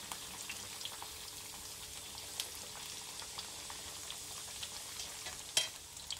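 Battered pumpkin tempura slices frying in oil with a quiet, continuous crackle and scattered pops, a sharper clink or splash near the end as the slices are turned.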